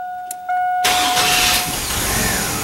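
A car engine cranks and fires up after a conversion from throttle-body injection to an HEI distributor and carburetor, catching abruptly and settling into a loud, steady run, with a faint whine heard before the start.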